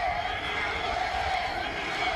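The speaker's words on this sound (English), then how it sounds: "To the cheers of USA." The arena crowd at the 2014 World Lacrosse Championship gold medal game between the USA and Canada cheers for the USA. The roar is a steady, fairly distant wash of noise, with a commentator talking over it.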